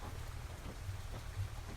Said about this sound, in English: the soundtrack of the engine and the rain on the roof of the cab and the doors